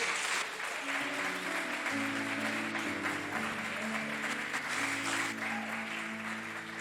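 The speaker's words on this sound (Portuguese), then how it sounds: "Vamos dar um aplauso bem forte ao Senhor?" An evangelical church congregation gives loud, sustained applause in praise while organ or keyboard chords sound beneath the clapping, and faint voices mingle in.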